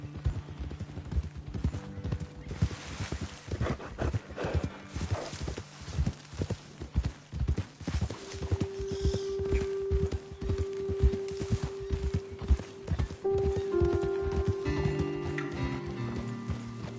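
In Red Dead Redemption 2, rhythmic clip-clop of horse hooves on a hard surface, steady and fairly close, with a brief snort or whinny-like tone partway through.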